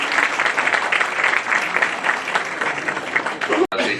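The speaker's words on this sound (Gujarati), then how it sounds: "આપણે એને તાળીઓથી વધાવીએ." Audience applause for a Padma Shri honoree as he is introduced at a Gujarati lecture event, dense steady clapping filling the room for about four seconds before cutting off abruptly near the end.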